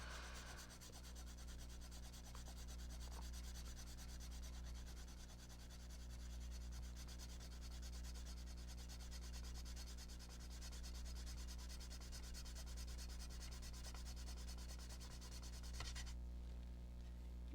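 A handheld sharpener works during a crafting session, producing a faint, continuous rubbing grind over a low mains hum. It runs steadily for most of the stretch and then cuts off near the end.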